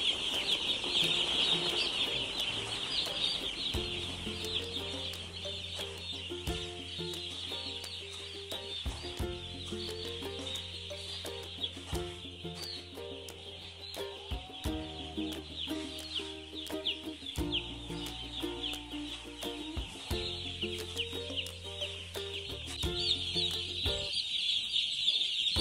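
Broiler chickens in a poultry shed keep up a dense, continuous chorus of soft clucks and peeps from many birds at once, steady and close, with a low humming tone underneath.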